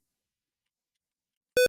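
A CHIP-8 interpreter gives one short electronic beep, a steady harmonic tone lasting about a tenth of a second near the end, loud and alone after silence.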